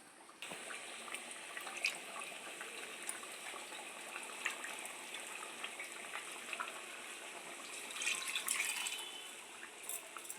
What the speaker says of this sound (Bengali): এর মধ্যে আমি একটু সামান্য জল দিয়ে ধুয়ে কড়ার মধ্যে দিয়ে দেবো